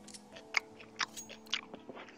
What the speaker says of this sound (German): Alter, hör auf so zu kauen.